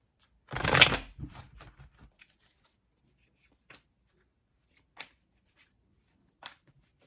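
Tarot cards riffled in one fast shuffle, close and crisp, followed by a few faint isolated taps and card clicks in a quiet room.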